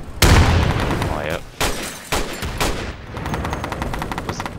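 Gunfire in the video game Insurgency: a loud opening burst, then several separate sharp shots, and finally a rapid automatic volley, with a voice calling out briefly partway through.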